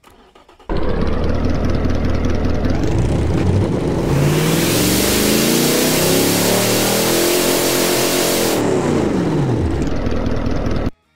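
A V8 car engine in the driving game Automation/BeamNG starts and runs loudly and steadily, its pitch rising and falling as it revs before cutting off abruptly.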